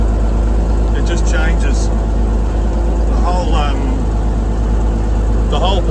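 A 1975 White 2-150 tractor engine runs steadily with a loud, constant low rumble while someone talks over it.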